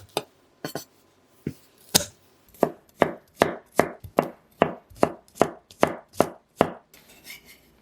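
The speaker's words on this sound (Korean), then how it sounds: "마늘을 으깨준 다음 대강 다져줄게요." A knife roughly chops crushed garlic on a cutting board, a steady run of sharp, close knocks that starts sparse and settles into an even rhythm, with no talk.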